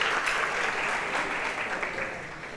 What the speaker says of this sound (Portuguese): palmas para o P1 e P2.